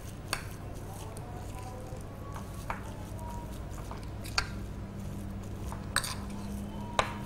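Grated coconut is stirred with food colouring in a bowl, giving soft squishy mixing over a low steady hum, with a few sharp clinks of spoon against the bowl scattered through.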